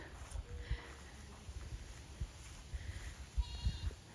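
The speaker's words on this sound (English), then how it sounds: "we got goats in places that I don't know how they got to" Goats on a farm after a storm let out a few faint, scattered bleats against quiet outdoor background noise.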